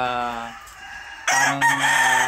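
A Dome broodstag rooster, a gamefowl breed, crows loudly and close in a breeding-season setting. The call is a long harmonic crow, briefly fading, then joined by a louder burst of farmyard crowing and clucking.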